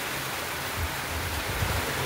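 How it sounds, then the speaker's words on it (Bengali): Rain falls on a rooftop in a steady, even wash of hiss that stays constant, close and fairly loud, with no voices. "তো ছাদের একটু বৃষ্টি দেখতে চলে আসলাম বন্ধুরা"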